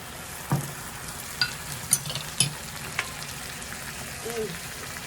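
Balsamic vinegar simmers and sizzles in a pan with a soft hiss and a few sharp clinks and scrapes of stirring, close and moderately quiet, with no talking.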